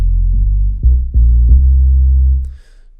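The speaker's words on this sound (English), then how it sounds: "I used a sub-analog patch, which sounds a bit like this." Sub-analog synth patch in Kontakt used as an 808 sub bass: a loud, deep sustained bass tone that shifts pitch several times with soft plucky attacks, then fades out after about two and a half seconds.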